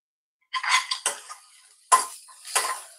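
Onion being stirred and sautéed in a pan while making Malvani mutton: a few separate scrapes and clinks of a spoon against metal, close and clear, with brief quiet gaps between strokes and no talking.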